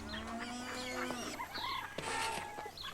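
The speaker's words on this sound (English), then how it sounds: "I guess Gilbert isn't as pushy as a bunch of hungry chickens" Busy, overlapping clucks and squawks from a flock of hungry chickens in a cartoon, with other farm animals calling faintly in the background.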